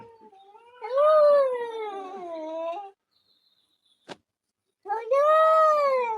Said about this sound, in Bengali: কিন্তু হলু বিড়ালের ডাক অদ্ভুত রকমের